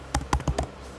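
Fingers type on a computer keyboard: four quick, close key taps in an uneven rhythm, then quiet.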